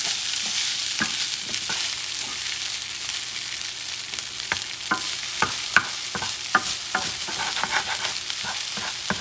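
Chicken fried rice sizzles steadily in a pan as a wooden spoon stirs and breaks up the rice, with repeated scraping taps over the constant frying hiss.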